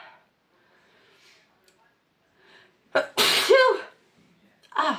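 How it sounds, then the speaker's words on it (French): A single sharp sneeze bursts out loudly and close, preceded by faint rustling and a brief intake of breath, then a short vocal sound follows right after. "Ah, je vais éternuer."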